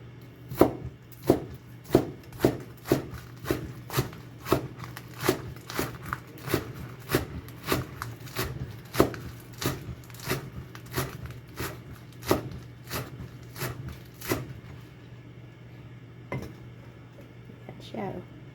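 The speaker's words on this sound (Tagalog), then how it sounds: "hiwain ko naman itong dahon ng sibuyas" A knife chops spring onion leaves on a board in a home kitchen, a steady run of about twenty crisp close taps that slow and thin out toward the end, over a low constant hum.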